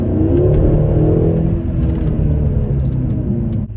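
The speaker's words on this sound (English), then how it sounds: "But this is the V8 and it's got the turbos, it just keeps on going." A BMW M6 F13 with a twin-turbo V8 accelerating hard, its engine a loud, sustained roar that holds strong and climbs steadily without easing off.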